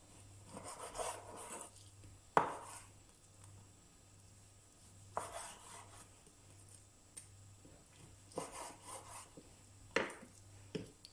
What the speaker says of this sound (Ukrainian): Спочатку нарізаємо філейку великими кубиками.